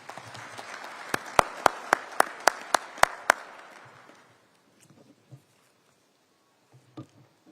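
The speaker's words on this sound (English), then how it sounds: "Dr. Wushe, please, a big round of applause." Applause breaks out at an investment conference during SADC Industrialisation Week: several sharp, loud claps over a brief patter of clapping that fades after about four seconds, leaving quiet room noise and a few faint knocks.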